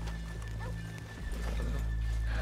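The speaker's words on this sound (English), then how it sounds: "Horses here off the main drag." Horses in the Red Dead Redemption 2 video game clip-clop and whinny close by, their hooves and neighs sitting over a steady low rumble of game ambience.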